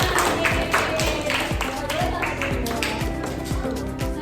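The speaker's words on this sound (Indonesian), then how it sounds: "Oke, tepuk tangan untuk kita semuanya." A classroom of students applauds during a microteaching lesson on sorting organic and non-organic waste, with sharp, fairly regular claps rising over a busy background of voices and chatter.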